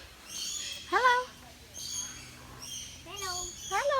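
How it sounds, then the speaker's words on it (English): Grand eclectus parrot at an aviary, giving several loud close squawking calls in bursts, with people talking quietly in the background. "This is a grand eclectus parrot or something like that."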